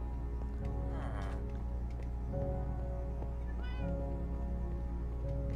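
A cat meows a few times near a computer keyboard indoors, short mid-loud cries over a steady low hum, with no clear talk.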